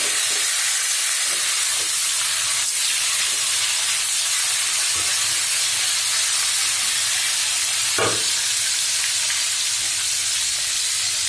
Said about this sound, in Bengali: তো চলেন মাছটাকে ভেজে নিই।